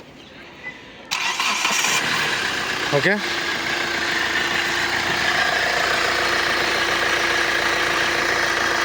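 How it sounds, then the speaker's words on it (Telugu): A 2018 Hyundai i20 Asta engine cranks and catches about a second in, then settles into a steady, even idle that runs on, while someone speaks briefly. "బండి మీకు ఒకసారి స్టార్ట్ చేసి చూపిస్తాను చూడండి"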